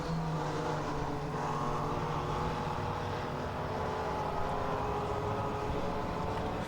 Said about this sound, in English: Cars coming through 16 there.